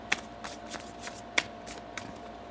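A deck of tarot cards is being shuffled, giving soft, quick papery riffles and light taps in an irregular rhythm. The sound is close and fairly quiet, with no talking.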